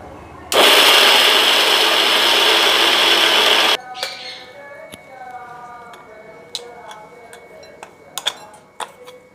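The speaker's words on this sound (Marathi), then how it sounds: "आपण हे शेंगदाणे बारीक करू मिक्सरमध्ये." Mixer grinder grinding roasted peanuts, a loud dense whirring roar lasting about three seconds, then stopping into quieter kitchen clatter and light ticking sounds.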